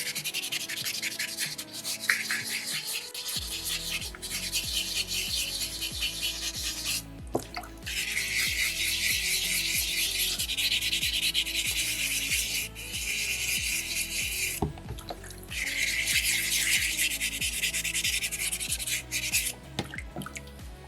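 A small soapstone bear figure being carved and shaped by hand, producing steady close scraping and rubbing strokes that continue almost without pause, with a brief break near the start and short gaps later.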